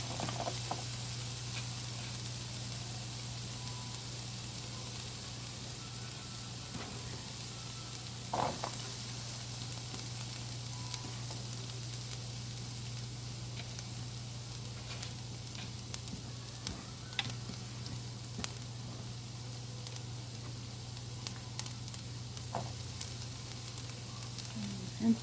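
Onions hit hot oil in a pan and sizzle steadily, a quiet continuous hiss under a faint background hum, with occasional soft clicks and no talking.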